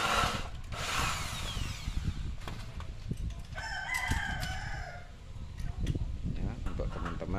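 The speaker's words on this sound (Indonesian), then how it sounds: "kita lakukan pengencangan dengan paku ripet" Power tool work while fastening a light steel cabinet frame with rivets, a drill-like whir and tapping up close, while a rooster crows loudly in the background midway through.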